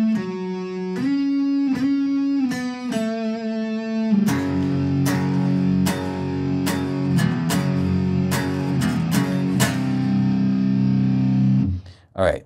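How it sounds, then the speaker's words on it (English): Distorted electric guitar in E standard tuning plays a power chord riff, starting with clipped, separated chord stabs and then moving into a thicker, sustained chugging section. The riff cuts off sharply near the end. "going to play the last part of the power chord riff"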